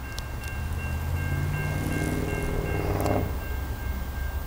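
Norfolk Southern freight train led by locomotive NS 9324 rolls past close by, a steady loud rumble with screeching wheel tones and a brief horn-like burst near the middle, no voices.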